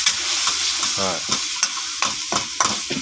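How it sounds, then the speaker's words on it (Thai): Chili sizzles and crackles in a hot pan while being stir-fried for a spicy Thai wild boar stir-fry, before the pork goes in, with steady frying hiss and scattered stirring scrapes and clacks close by. "ผัดพริกก่อนใส่หมูลงไปพริกหมูค่ะ"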